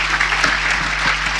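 A church congregation claps their hands in praise during a Spanish-language apostolic gathering, a dense, steady patter of many hands close by, with faint voices mixed underneath.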